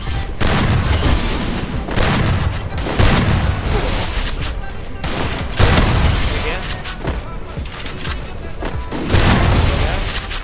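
Rapid gunfire bursts and booming shots from the Garena Free Fire video game, loud and repeated in clusters across the whole stretch, with someone talking excitedly over the shooting.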